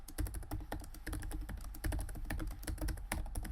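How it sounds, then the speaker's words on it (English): Rapid clicking keystrokes on a computer keyboard in an irregular stream, close and fairly quiet with no talking. "we can just click at the end of our text and hit return on our keyboard"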